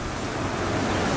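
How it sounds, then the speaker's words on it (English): Strong wind and surf on an oceanfront balcony at the Ritz-Carlton Laguna Niguel make a steady, broadband rush with gusty buffeting, loud and close, with no voices. "It's very windy"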